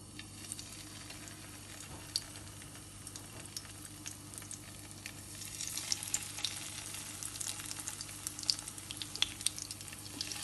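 Goan mackerel fish cutlets fry over a medium flame in a pan, a steady close sizzle with crackling pops that grows busier and louder midway, no talking.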